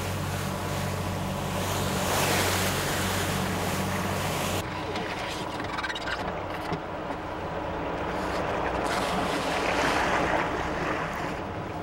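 A boat heads out over rough sea toward an island seaweed farm, with a steady engine rumble, wind and wave wash throughout, loud and close; the low engine drone drops away partway, leaving wind and water.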